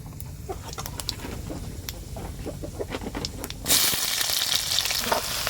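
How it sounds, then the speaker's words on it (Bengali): Chopped onion drops into hot oil with whole cumin, dried red chillies and garam masala for a village-style desi chicken curry; a steady crackle suddenly swells into a louder, brighter sizzle partway through and keeps going. "এবার এর মধ্যে আমি দিয়ে দেবো পেঁয়াজ কুচি"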